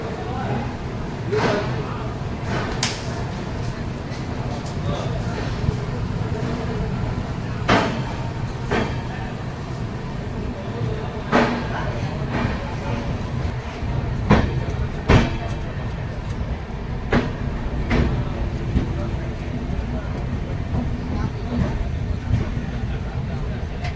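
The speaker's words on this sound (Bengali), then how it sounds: "ফাইনালি প্রায় 4 ঘন্টা দেরিতে কামাখ্যা স্টেশন থেকে ট্রেন ছাড়লো" The Brahmaputra Mail pulls out of Kamakhya station with a steady low rumble and sharp intermittent clanks and knocks from the carriages, heard from inside the train.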